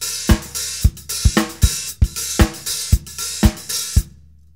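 A syncopated drum groove where the hi-hat pattern is split between both hands, with steady bright hi-hat or cymbal wash over punchy kick and snare hits. The beat is close and loud, then stops and the last hit rings out briefly.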